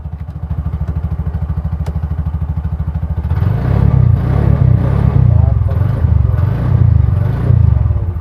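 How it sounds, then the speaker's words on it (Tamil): A motorcycle engine running smoothly, a steady close-up throb that grows fuller and louder partway through, with a voice talking over it. "இவ்வளோ ஸ்மூத்தாக இருக்குது என்ஜின்"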